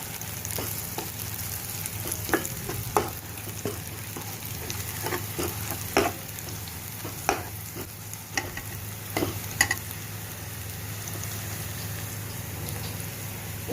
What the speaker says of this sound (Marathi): आणि आपण आता त्यामध्ये 1 बारीक चिरलेली शिमला मिर्च टाकून घेत आहोत